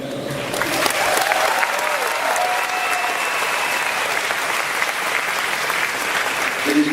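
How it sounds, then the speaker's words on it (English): A Comic Con panel audience at the Fantastic Beasts session applauds in a dense, steady wash of clapping and crowd noise that holds at a loud level for the whole stretch, with a few scattered cheers. "Therefore, applaud yourselves."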